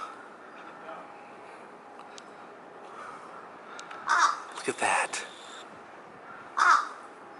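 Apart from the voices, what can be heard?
black crow cawing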